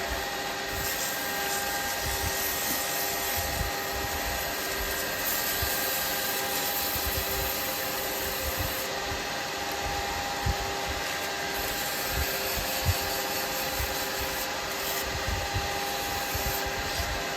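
A steady mechanical whir of a spinning woodturning lathe with the rough, continuous rasp of sandpaper against turned wood, unbroken and close throughout.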